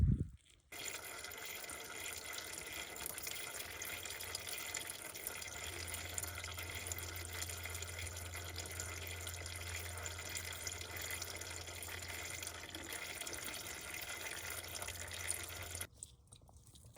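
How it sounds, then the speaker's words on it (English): Transmission fluid drains from the plug of a ZF automatic gearbox on a BMW 740i, a steady trickling, pouring stream that runs continuously for about fifteen seconds at moderate level, with no talk. "let me go ahead and undo the drain port or drain plug and then drain it out from here"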